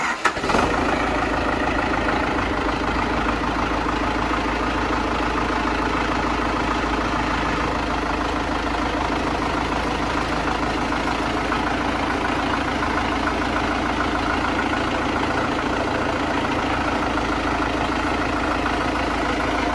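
An MTZ 892 tractor with a KUN Galtech Maksimum 2000 front loader fitted runs at a steady, loud idle. A low diesel drone continues unbroken, with no speech.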